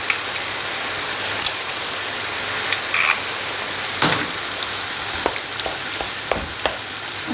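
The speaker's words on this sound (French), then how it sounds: "Je mélange." Crème fraîche and liquid cream being stirred in a hot pan, producing a steady, close sizzling hiss with scattered scraping clicks from the utensil and no talking.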